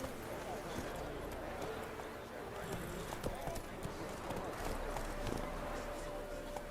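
Horse hooves clip-clop at a steady galloping rhythm in The Witcher 3, running continuously beneath a game soundtrack and a rider's voice.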